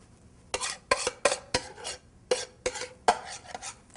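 Avocado dip for a Mexican layered dip being scooped with a utensil into a dish, a series of close scraping and clinking strokes in an irregular rhythm, with quiet pauses between.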